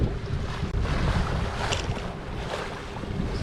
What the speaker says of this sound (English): We are sailing! Engine is off and we are underway.